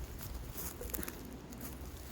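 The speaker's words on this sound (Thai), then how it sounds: "หนาวพี่น้องฝนตก" Rain falls outdoors on a cold day, wetting the road, as a soft, steady patter fills the background with no talk.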